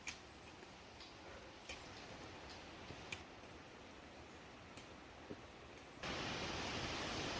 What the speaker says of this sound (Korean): 2시간 정도 올라오니 설악폭포 물소리가 들리네요.